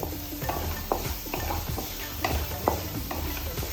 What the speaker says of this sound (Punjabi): ਟਮਾਟਰਾਂ ਨੂੰ ਅਸੀਂ ਚੰਗੀ ਤਰ੍ਹਾਂ ਭੁੰਨਾਂਗੇ ਤਾਂ ਕਿ ਇਹ ਨਰਮ ਹੋ ਜਾਣ